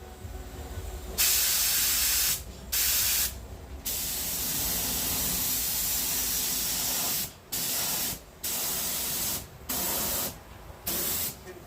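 An airbrush sprays paint onto the bonnet of a Mazda 323, hissing in close, steady bursts: several short spurts, one long continuous spray, then more brief on-off blasts.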